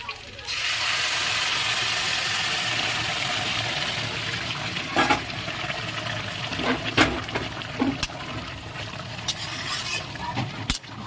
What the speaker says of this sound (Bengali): এই যে গরম জল করে নিয়েছি এই গরম জলটা ঢেলে দেবো